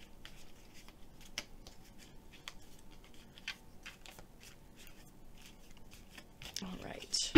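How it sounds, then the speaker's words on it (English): A thick tarot deck is shuffled by hand in soft, rapid riffles and taps, a string of brisk papery clicks at close range, with a louder rustle toward the end. "let me try to shuffle them a different way"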